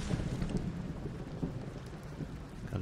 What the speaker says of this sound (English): Got hit by lightning.